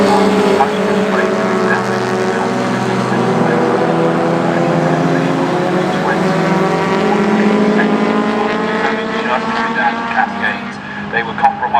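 Classic sports cars racing at Oulton Park, among them a Jaguar XJ, their engines roaring loudly and rising in pitch as they accelerate past, with a commentator talking over the noise.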